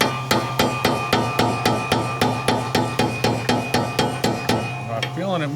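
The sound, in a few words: hammering a punch against a barrel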